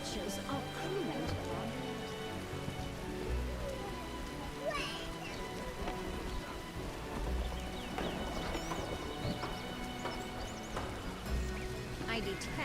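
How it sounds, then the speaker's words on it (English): Steady rainfall in The Witcher video game, a constant patter of drops on surfaces beneath low ambient music, with a character's voice speaking briefly. "How sad when it rains."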